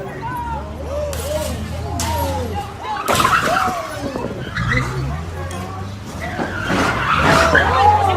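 Tires squeal and skid repeatedly as cars swerve toward a collision, the screeching rising and falling amid engine noise and a thump, heard under excited, overlapping voices nearby.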